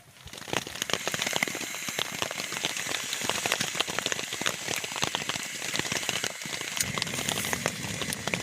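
Dense, steady patter of small ice pellets striking a tent, a continuous rain-like crackle of many tiny hits close by, holding level throughout with no voices.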